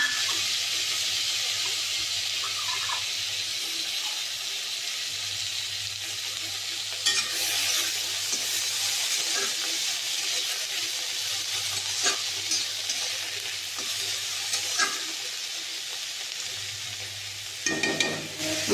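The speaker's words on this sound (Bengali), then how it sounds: "এখন মাছ ভাজার তেলের মধ্যে আমি পেঁয়াজটা দিয়ে দিই।" Onions fry in oil left over from frying fish, a constant close hiss of sizzling with occasional sharper crackles and stirring clatter, and a low hum running underneath.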